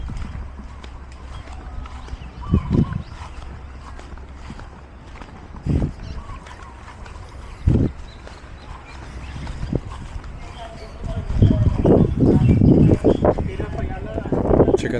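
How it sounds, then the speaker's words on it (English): Hooves clop intermittently on hard ground, a few scattered steps and then a denser run of hoofbeats near the end, with voices talking in the background. "Riding horses too."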